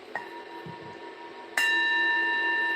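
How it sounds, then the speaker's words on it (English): A single bright bell strike rings out, its clear tone sustaining and slowly decaying after a quiet, faintly rustling start. "I'm going to hit the bell"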